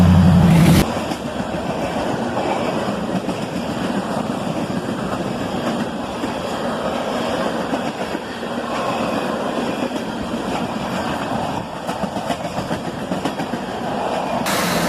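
A CSX tanker train rolls past heading north, a steady loud rumble of rail cars with clickety-clack from the wheels, sustained and close throughout with no talk.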